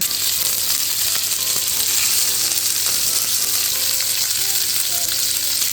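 A steady, close sizzle of food frying in a hot pan, continuous bright crackling and hissing with no talking.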